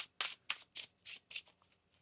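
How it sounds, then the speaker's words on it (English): Tarot cards are riffled and shuffled in about six quick, crisp bursts, close up, with short pauses between. "One more shuffle here."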